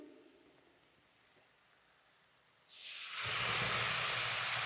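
Spice paste is added to a hot frying pan while cooking Bengali rithe fish curry. After a quiet stretch, a sudden loud sizzle bursts out and continues as a dense, steady hiss.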